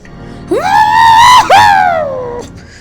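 A voice imitates the classic RKO movie scream: one loud, sustained, wavering shriek lasting about two seconds, briefly breaking in the middle before trailing off, performed alone without other talk.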